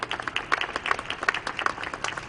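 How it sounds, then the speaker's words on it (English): Sparse applause from a small audience gathered for National Guard members at a mass vaccination site in the Savannah Civic Center, a scattering of distinct claps at moderate distance, alone without talk. "Let's give them a round of applause."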